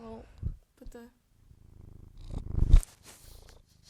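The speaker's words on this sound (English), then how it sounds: "And y'all hear him purring." A cat purrs in a low, rhythmic rumble close by, with brief bits of a person's voice at the start.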